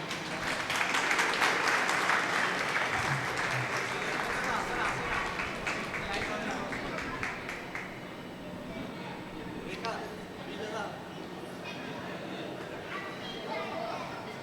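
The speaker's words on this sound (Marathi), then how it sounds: "जोरात टाळ्या वाजवा एकदा." A crowd at a youth drama and dance event claps loudly, with cheering and chatter mixed in. The applause fades gradually over the length of the passage.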